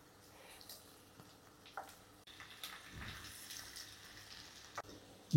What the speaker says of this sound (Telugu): గ్రేవీలోకి ఆ ఎగ్ స్లైస్ కింద కట్ చేసుకున్నాం కదా దాంట్లో వేసుకుందాం.